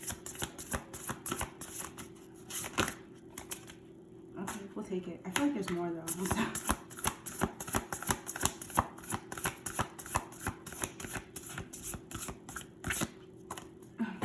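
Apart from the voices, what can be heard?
shuffling a deck of cards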